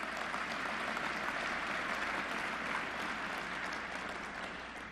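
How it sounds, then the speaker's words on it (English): Sustained applause from a banquet audience at a Kentucky Chamber of Commerce dinner in Lexington, a dense, steady wash of clapping hands that stays loud and even for the whole stretch before easing slightly at the end. "Give them another round of applause, please."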